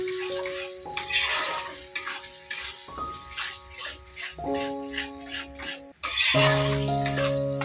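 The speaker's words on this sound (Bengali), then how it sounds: "দইটা দিয়ে একটু ভালো করে কষাই।" Spice paste and yogurt frying in a pan for biryani, a steady close sizzle with a spoon stirring and scraping against the pan, while someone talks over it.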